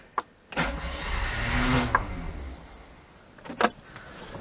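An old Oltcit car's engine is cranked a couple of times to pump fuel, giving a loud, close, rough churning burst that fades out, followed by a second shorter crank near the end.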